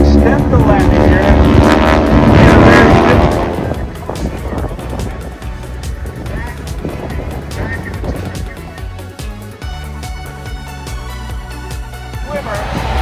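Blue Angels jets at an air show: a loud, broad jet roar swells and then fades into a steady, rumbling drone, with a voice talking over it.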